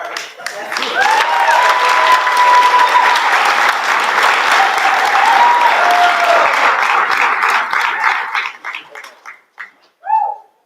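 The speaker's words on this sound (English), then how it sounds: "Another round of applause" Audience applauding at a social event, dense steady clapping close by that swells and continues for several seconds, with cheering voices mixed in before it breaks up into scattered claps and a few voices.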